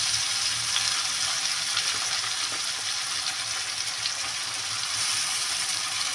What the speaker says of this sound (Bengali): মাছের দুই পিঠে চিরাই ভাজা হয়ে গেছে, শক্তও কিন্তু হয়ে গেছে। এইবার দিয়ে দেবো রসুনগুলো